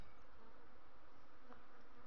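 Buckfast honey bees pour out of a freshly opened hive, their dense, steady buzzing filling the air close by and never letting up.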